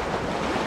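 Sea waves and wind on a beach during coastal surf casting make a continuous, broad rushing wash with steady wind noise close to the microphone, briefly and without any voices.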